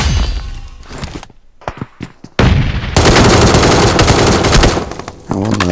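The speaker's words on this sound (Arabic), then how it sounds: "صار لك نص ساعة عم ترمي علي بالشوتجان" Shotgun gunfire in a solo-squad battle royale video game, with heavy blasts and bursts of rapid shots that give way to a dense, sustained barrage of loud gunfire.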